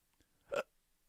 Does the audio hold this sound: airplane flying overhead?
no